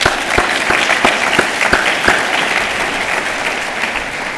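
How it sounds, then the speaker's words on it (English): At a regional research bureau's annual meeting, an audience applauds Karyn and Harriette with sustained, fairly loud clapping, a few sharp individual claps standing out near the start before the sound settles into an even wash. "maybe another applause for Karyn and Harriette on this one"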